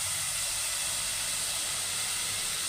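Gravy poured into fried masala in a pan while cooking Afghani kofta, giving a loud, steady broadband sizzle and hiss that fills the whole stretch with no talk.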